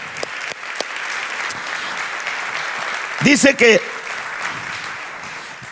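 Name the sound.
church congregation applause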